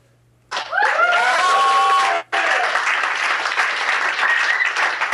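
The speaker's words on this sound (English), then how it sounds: "Big round of applause for Steve." After a brief hush, a live startup-show crowd in London bursts into loud applause with a few whoops and cheers, cuts off for a split second, then keeps clapping steadily to the end.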